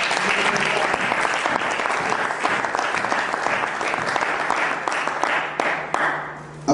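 A sustained roar of applause and cheering from a large audience, dense and continuous clapping filling the whole stretch at steady loudness with a brief dip near the end.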